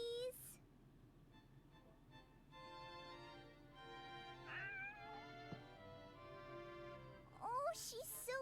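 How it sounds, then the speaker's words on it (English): A kitten in the PS2 game Shadow of Destiny gives a few soft, high meows with rising and falling pitch, at the start and near the end, set over a quiet musical game score. "Oh, you've got a kitten, haven't you?"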